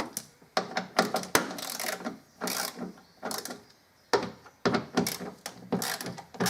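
A car tweeter speaker's wiring connector is unplugged by hand, giving a cluster of sharp plastic clicks and handling rattles in short, irregular bursts, close up and fairly quiet.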